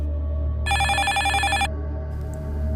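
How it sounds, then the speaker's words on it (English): A phone rings once with a single bright electronic ringtone burst lasting about a second, close and clear over a low steady room hum, with no voices. "I heard the distinct sound of my phone ringing"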